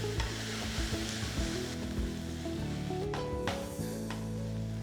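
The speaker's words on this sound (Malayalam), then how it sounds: "ഇതിൻ്റെ പച്ചമണം മാറുന്ന വരെ നന്നായിട്ട് വഴറ്റിയെടുക്കുക" A crushed spice mixture is sautéed in a pan for beef rice, making a continuous close sizzle with stirring scrapes, over a low steady hum and with no speech.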